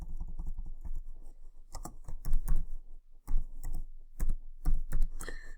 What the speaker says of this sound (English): I'll just type in here my website